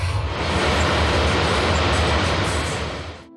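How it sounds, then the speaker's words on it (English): A train rolls past close to a campsite near Edmonton, a loud, steady broadband rumble with heavy low-end thrum that swells in and fades slightly at the end, with no voices. "the train is somewhat close"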